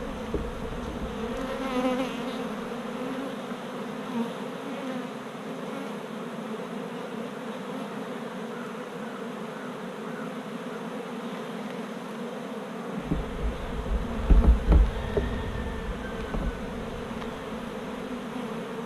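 Honey bees swarm around an open hive during comb honey harvesting, a dense continuous buzzing hum close to the microphone throughout, with a few handling knocks near the end.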